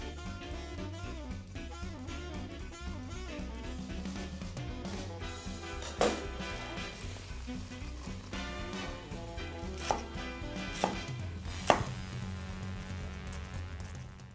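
A knife cuts a cored vegetable into chunks on a board with a few sharp distinct chops. Faint music plays underneath.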